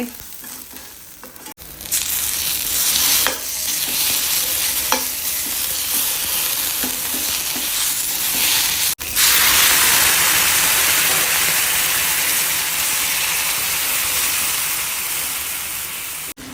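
Onion and curry leaves frying in hot oil for a pomfret fish masala fry, a steady loud sizzle running throughout with a brief pause early on, close and unbroken with no voices.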